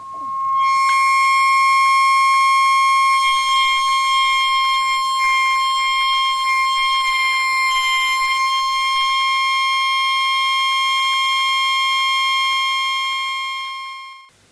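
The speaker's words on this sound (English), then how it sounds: "The frequency from the tone generator was gradually increased." A loud, continuous electronic tone from a tone generator, gradually rising in frequency, with bright overtones, drives a vibrating plate for about fourteen seconds, then fades out at the end.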